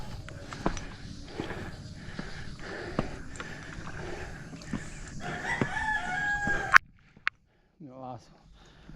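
Chickens clucking and a rooster crowing amid outdoor bustle and voices, then a quieter stretch with a single distant crow near the end.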